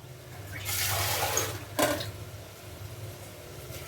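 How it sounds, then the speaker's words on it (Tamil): Water splashes into a cooking pot of radish in a short, steady pour, rushing briefly before tapering off into quiet kitchen background noise. "கொஞ்சமாக தண்ணி சேர்த்துக்கிறேன்."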